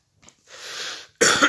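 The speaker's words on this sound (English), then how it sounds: "Excuse me, my coughing." A couple of harsh, close coughs separated by a brief pause, with a faint breath before them.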